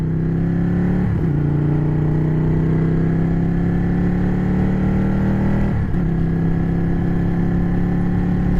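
A white-and-blue Ford Mustang GT350 engine drones steadily close by, its pitch climbing slowly with two brief revving surges along the way.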